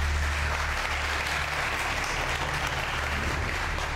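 A studio audience at a TV game show claps for the contestants: steady, dense applause from many hands, loud and continuous from start to finish with no talking.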